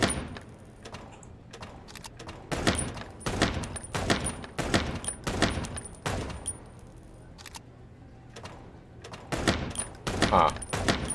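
Sharp gunshots ring out in a Chicken Police game, loud separate cracks and quick clusters spread over the stretch, with quiet pauses between them.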